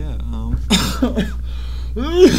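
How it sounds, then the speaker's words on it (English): A man coughs and clears his throat several times at close range, harsh rough bursts separated by brief pauses, with a little voiced sound between them. "sorry about the coughs"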